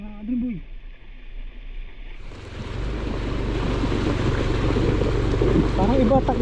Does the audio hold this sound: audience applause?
no